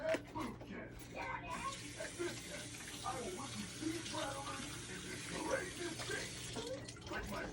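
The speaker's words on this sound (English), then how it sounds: "Let me wash my hands real quick." Hands washed under a running kitchen tap, a steady close stream of water splashing with small shifts as the hands move, and a voice speaking briefly over it.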